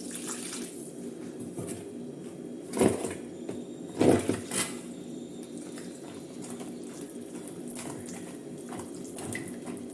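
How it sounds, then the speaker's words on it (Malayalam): Water pours steadily into a vessel of salted ground raw rice batter in a continuous splashing stream, with a couple of louder gurgles partway through. "ഇനി നമുക്ക് വെള്ളം ഒഴിക്കാം"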